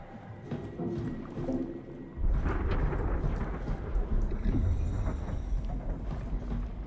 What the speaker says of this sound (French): Qu'on aurait dit qu'il y avait un orage.